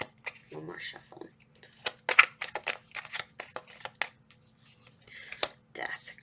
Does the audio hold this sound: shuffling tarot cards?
yes